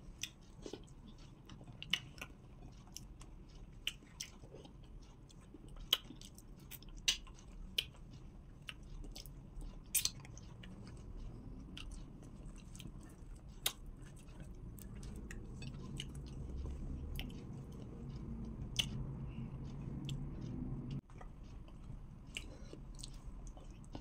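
Close, quiet ASMR mukbang chewing of carrot fufu with okro stew: soft wet mouth sounds broken by scattered sharp clicks and smacks over a long stretch.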